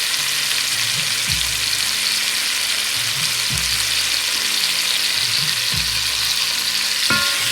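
Small chopped tomatoes frying in a pan for a tomato dhal, giving a steady, close sizzle throughout, with a few soft stirring scrapes and knocks beneath it.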